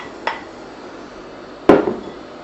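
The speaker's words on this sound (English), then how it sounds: "what we do now is throw the peas" Cooked yellow split peas for a vegetarian haggis are tossed into a pan: a faint tap, then a louder single clattering thump that rattles briefly and fades, with no talk.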